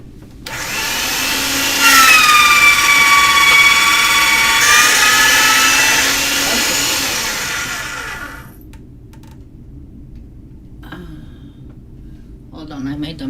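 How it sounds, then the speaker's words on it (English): A clay rolling machine whirs loudly for several seconds as clay passes through, a steady motorized hum with a rising then falling pitch that cuts off abruptly, followed by quiet handling sounds. "And then I'm going to just get it through the machine like this"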